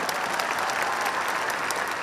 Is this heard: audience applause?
yes